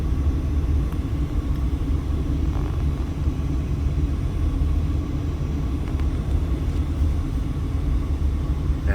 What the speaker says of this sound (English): And of course you can see traffic is nuts.